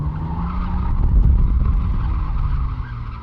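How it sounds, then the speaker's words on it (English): A BMW E90 with a welded differential slides with its tires skidding, a continuous rough, low tire scrub and engine drone heard from inside the car, swelling briefly in the middle before easing. "Dang, I actually spun it out."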